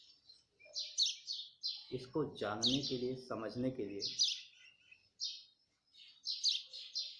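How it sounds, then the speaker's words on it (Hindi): Birds chirp in quick bright bursts throughout, and someone speaks briefly in the middle beneath the calls. "आप चिड़ियों की चहचहाहट स्वयं सुन सकते हैं"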